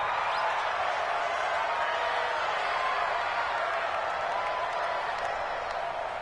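Steady, dense stadium crowd roar from a football video game featuring the Jaguars, a broad, even wash of noise that holds at a constant level throughout with no distinct cheers or claps.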